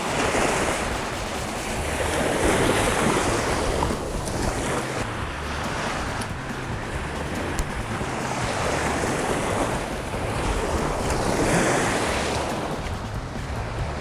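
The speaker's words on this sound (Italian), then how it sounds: "sto vento che sta gonfiando il mare" Wind-driven sea waves surge and wash continuously during a summer storm on a surfcasting beach, wind buffeting the microphone, a steady roaring rush with swelling peaks and no voices.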